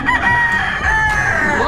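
Gamefowl stag crowing at a gamefarm sale inside a convention center, one loud, close crow lasting over a second with no talk over it.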